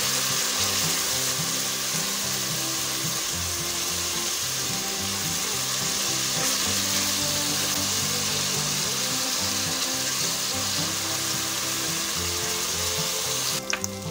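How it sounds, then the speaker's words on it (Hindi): Two medium chopped onions fry in oil for a moong dal kofta curry, a strong continuous sizzle with a steady hiss throughout, close and loud, with a faint clatter near the end. "ये 2 दरमियाने साइज़ के हमने प्याज लिए हैं और उसे चॉप कर लिया है। इसे भी हम ऑयल में फ्राई कर लेंगे।"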